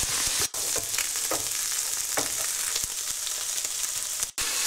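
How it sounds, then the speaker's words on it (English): Kidneys sear in a hot pan with a steady, dense sizzle throughout, with occasional brief crackles and pops, close and fairly loud, no voices. "we're not trying to cook the kidneys, just to seal the cut surfaces before casseroling."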